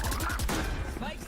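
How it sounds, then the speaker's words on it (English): Gunfire in the tactical shooter Valorant during a VCT Masters Shanghai match, with Sheriff and Outlaw weapons in play: a dense run of rapid shots over a busy game mix, heard alongside talk. "Sheriff looking nice, but the outlaw just a little bit better, hits a little bit harder."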